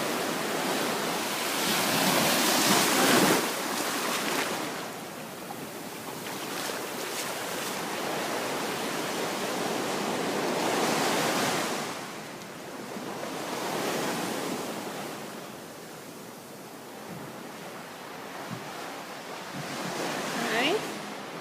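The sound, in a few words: ocean waves near the room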